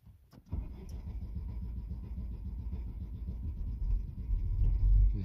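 A gas-powered car engine in freezing winter cold, about minus seven degrees, is cranked once and then catches, settling into a low, close rumbling run that grows louder toward the end.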